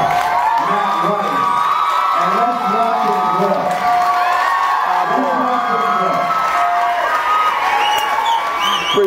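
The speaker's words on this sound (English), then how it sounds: "let's applaud the bravery, the boldness, the unapologetic Matt Rife" A comedy club audience applauds and cheers for stand-up comedian Matt Rife, with steady, loud clapping and whoops running throughout, mixed with voices and shouts from the crowd.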